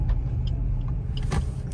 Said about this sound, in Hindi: ये गई जी अपनी स्विफ्ट अंदर